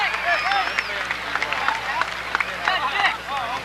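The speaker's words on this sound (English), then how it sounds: "Give him a big round of applause" Applause from a crowd at a weekly event at Seekonk Speedway, scattered claps and murmuring spread under close voices talking over it, the clapping thin and uneven.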